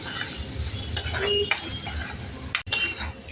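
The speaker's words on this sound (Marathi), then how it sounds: "आता या ठिकाणी आपण एक बारीक चिरलेला टोमॅटो घालणार आहे आणि तो मऊ होईपर्यंत परतून घेणार आहे" Finely chopped tomato is sautéed in a pan for dal tadka, with a close, steady sizzle under metal spatula scrapes and a few light clinks.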